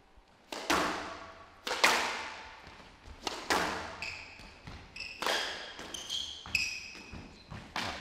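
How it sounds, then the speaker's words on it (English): Squash balls struck hard in a professional women's match at the Hong Kong Open, a rally of sharp racquet smacks and wall thuds at irregular intervals, with squeaking shoes in between and no talk. "Beautiful, beautiful backhand drop shot there"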